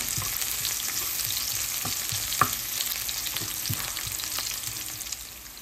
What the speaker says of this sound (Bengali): তেলের মধ্যে আমি রসুন, জিরা এবং পেঁয়াজ কুচি দেবার পরে এবার আমি এটাকে একটু ভেজে নেব